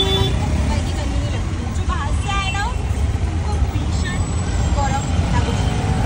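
Heavy road traffic rumbles steadily from inside a car, a low, continuous engine and road drone with brief passing vehicle noises, while people chat and murmur over it throughout.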